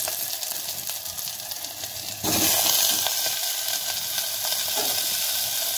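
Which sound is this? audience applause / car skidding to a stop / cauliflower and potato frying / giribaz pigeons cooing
cauliflower and potato frying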